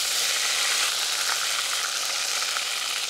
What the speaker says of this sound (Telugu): వెంటనే అదే నూనెలో 3 చెంచాల అల్లం వెల్లుల్లి పేస్ట్ చేసుకుందాం